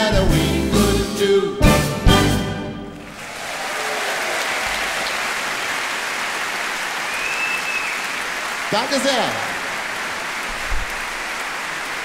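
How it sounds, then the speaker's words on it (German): After a big-band Christmas song with orchestra and choir, the concert audience breaks into sustained applause that carries on steadily while someone speaks briefly over it. "Und einen großen Applaus an unsere beiden Freunde am Blech."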